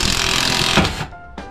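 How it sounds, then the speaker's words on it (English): An impact gun fitted with a 19 mm socket drives a ball joint separator on the front suspension of a 1992-1995 Honda Civic, a loud, harsh rattling burst of about a second, a brief pause, then a short second burst. "I usually take 19 mil socket, shove it on the impact gun"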